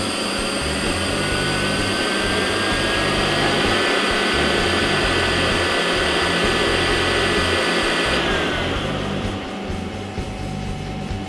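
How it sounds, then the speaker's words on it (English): An ITT PumpSmart PS220-controlled pump drawing air through a tube in its suction area to simulate a dry run fault, giving a loud, steady mechanical roar with hiss and whine that shifts and drops slightly near the end. "By inserting this tube into the suction area of the pump will start to draw air, which will simulate a dry run condition"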